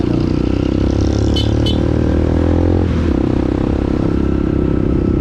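A motorcycle engine drones close by amid road traffic on a road in Amadeo, Cavite, with a brief scrape and clatter partway through, the engine note shifting as the motorcycle cuts in and passes.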